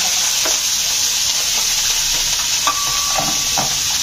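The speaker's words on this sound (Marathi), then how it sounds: "आणि हा कांदा एकदम बारीक किंवा मीडियम गॅसवर भाजून घ्यायचं, करपायचा नाही।" Onion for gravy fries in a hot pan with a steady, loud sizzle and hiss, with a few faint stirring scrapes and no voices.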